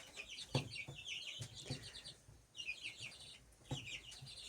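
Newly hatched chicks in an incubator peep in quick high-pitched bursts, repeating in clusters with brief pauses, fairly close and moderately loud.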